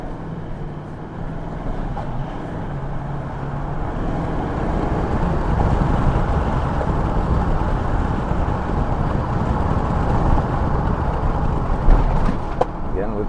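A 2017 GMC Sierra Denali 2500 HD heavy-duty pickup with an aftermarket tuner drives along, its low engine and road rumble steady from inside the cab with no talk.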